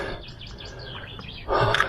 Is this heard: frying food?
no